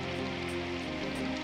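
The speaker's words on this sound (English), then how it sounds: "I was walking in the rain as I thought to stop searching for the day" Steady rainfall in the game Symphonic Rain, a dense, even wash of drops pattering on a surface, continuous and fairly close with no voices over it.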